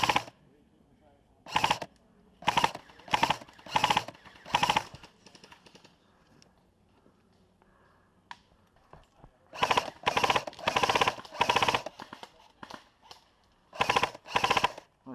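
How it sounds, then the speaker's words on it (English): Bursts of airsoft gunfire from a Classic Army Mk22 Commando during outdoor gameplay: sharp, rapid cracks in clusters, loud and close, separated by quieter pauses. "Incoming fire from 5."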